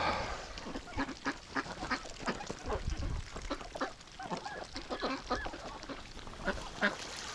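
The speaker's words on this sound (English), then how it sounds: "Oh, ducks playing in duck poop mud." A group of ducks bathing in half-frozen slushy mud, quacking and honking repeatedly in close, overlapping bursts over a constant outdoor background.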